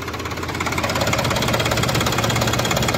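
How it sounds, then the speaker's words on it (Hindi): Close, loud, steady idle of a Sonalika DI-745 three-cylinder tractor diesel fitted with an inline injection pump: an even, rapid knocking chug that holds throughout with no voices. "तो किसान भाइयों ये आवाज सुन लो इस ट्रैक्टर की"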